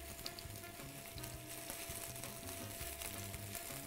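Vegetables such as onion, celery, peppers and cabbage stir-fry in a pan for Chinese-style noodles, giving a steady, loud sizzle with intermittent low scraping and tossing sounds throughout.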